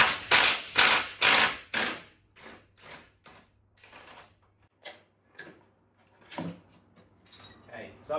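A ratchet turning the last subframe bolt on a BMW E92 335i with a blown N54 engine, heard as a run of loud rhythmic clicking bursts that slow and fade into scattered metallic ticks.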